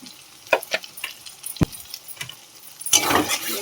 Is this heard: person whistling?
no